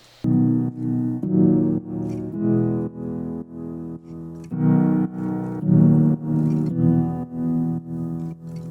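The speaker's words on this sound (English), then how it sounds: "And on top of that, I've got this piano." Sustained piano chords ring out in steady repeated blocks, fairly loud and warm, with a soft reverberant tail and no voices.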